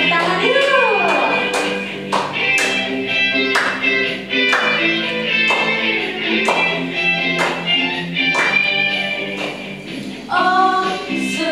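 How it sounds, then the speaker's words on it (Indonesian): Children at a kids' church service clap along to a cheerful worship song, sharp rhythmic claps landing in a regular beat over music and singing voices. "Yuk tepuk tangan yuk."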